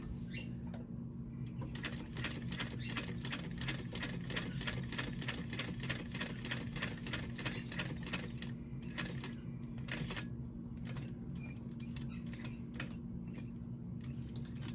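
A 1341 cylinder arm sewing machine stitching a bag, its needle ticking in a rapid, regular mechanical patter over a steady motor hum, with a few brief pauses near the end.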